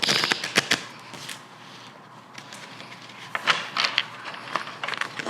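A deck of tarot cards riffled and shuffled by hand nearby, quick papery flutters and soft slaps in two bursts separated by a quieter pause.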